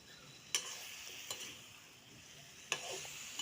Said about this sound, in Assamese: এইখিনি অকনমান ভাজি লম এনেদৰে